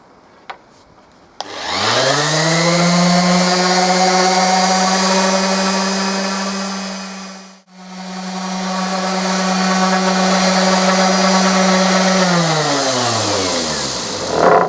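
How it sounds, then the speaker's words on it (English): A power sander works a hardwood sign, starting with a click and then holding a loud, steady motor whine close by. It dips briefly midway, picks back up and winds down at the end. "Got to finish sanding it down."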